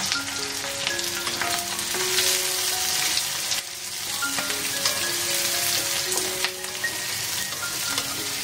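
Mustard seeds and cumin frying in oil in a large kadhai with onion and curry leaves, a continuous close sizzle with crackling pops and occasional stirring scrapes.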